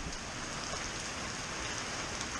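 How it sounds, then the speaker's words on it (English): Heavy rain pours down outdoors on a fishing trip, a dense, steady broadband hiss of drops hitting surfaces with no pauses or voices. "I'll be yelling over the rain."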